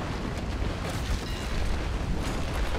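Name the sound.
cannon shot from a sailing warship in the video game Naval Action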